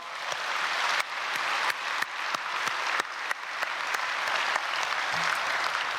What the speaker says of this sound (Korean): 중학생 위해서 박수하겠습니다.